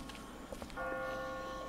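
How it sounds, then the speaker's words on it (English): Church bells ring in The Walking Dead video game, a steady sustained peal swelling in partway through over a dim murmur of game ambience. "I just got spooked by those bells"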